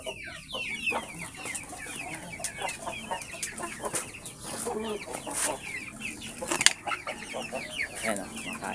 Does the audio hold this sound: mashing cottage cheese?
no